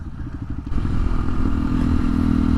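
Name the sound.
Honda XR150L motorcycle engine running with exhaust and intake mods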